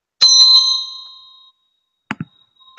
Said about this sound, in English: I have my bell here, right?